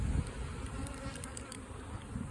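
Honeybees from a hive colony frame buzz in a dense, steady drone, close and continuous, with no voices over it.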